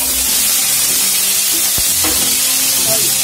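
Carrots and cabbage hitting a hot pan for tawa pulao made from leftover rice, a loud continuous sizzle with stirring scrapes and a sharp clink midway.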